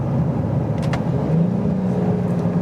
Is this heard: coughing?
no